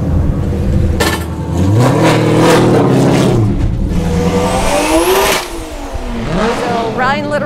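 A Formula Drift car on its first run at a skills battle, the engine revving hard and loud with rising and falling pitch sweeps, close by, while a commentator talks over it.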